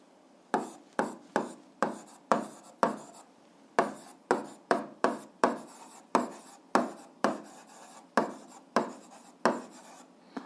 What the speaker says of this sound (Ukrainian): записуємо тоді план експерименту